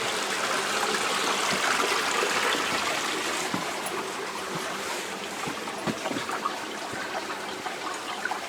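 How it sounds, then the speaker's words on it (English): Water gurgles and trickles beneath the floor of a lava tube cave, a soft continuous flow with occasional small splashes and knocks close by. "I can hear the water under me."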